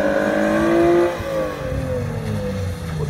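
A drift car on the Crail oval raceway revs hard in a low gear, its engine note rising and falling in long sweeping whines as it slides through a corner, loud and fairly close, with no talking.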